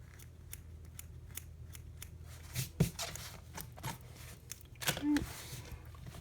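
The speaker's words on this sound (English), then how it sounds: "I'm gonna cut some of this down." Scissors snip through embroidery material in a series of short, close crisp cuts with small rustles between them, fairly quiet, with no talk.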